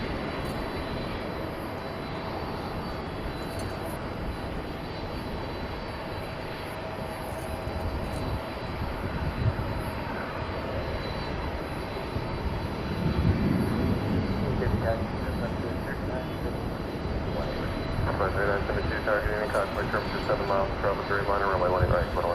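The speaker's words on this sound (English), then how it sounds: "So another UPS plane warming up back there." Distant jet engines of a UPS Boeing 767 cargo plane warming up at DFW Airport at night, a steady low rumble and whine that swells slightly toward the end, heard alone without talk.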